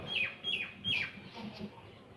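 Several bright, high chirping bird calls ring out in a quick series against a calm, quiet background, with softer calls trailing afterward.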